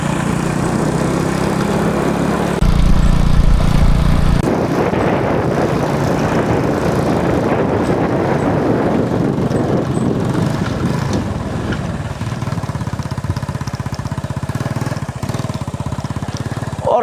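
A motorcycle engine drones continuously at close range, loud and rough, with a heavier burst of revving early on before settling into an even hum.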